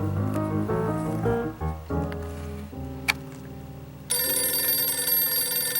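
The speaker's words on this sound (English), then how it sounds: "Oh, the phone's ringing." A telephone rings with a bright, steady electronic trill that starts suddenly and carries on loudly, following a stretch of gentle melodic music.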